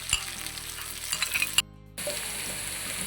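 Fresh ground garlic and chili powder sizzling with chicken in a hot pan for a desi chicken phali dish, a steady frying hiss with stirring scrapes, briefly cut to silence midway before the sizzle resumes.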